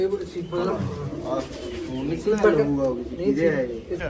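Pigeons coo close by in repeated low, throaty rolling calls that overlap one another almost continuously.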